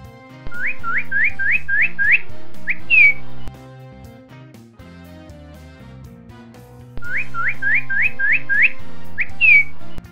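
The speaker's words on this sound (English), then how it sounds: "Bird." Two identical bursts of bright, rising bird whistles, each a quick series of chirps ending in a falling note, play over light background music.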